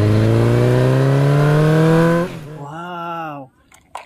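A cartoon vehicle drives off with a loud engine rising steadily in pitch, then drops into a brief wavering tone and cuts out into faint clicks and near silence; a voice is heard over it.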